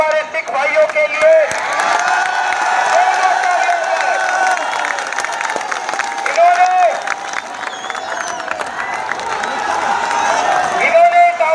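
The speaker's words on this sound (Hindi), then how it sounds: "तालियां हो जाए हमारे सिख भाइयों के लिए" A crowd at a protest at Jantar Mantar in Delhi claps and cheers for Sikh brothers: dense, continuous applause with scattered shouts, close and steady throughout, with voices mixed in.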